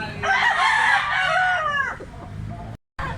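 A young gamecock stag, a white huckle, crows nearby in one drawn-out crow that rises and then trails off, followed by a brief gap and faint yard noise.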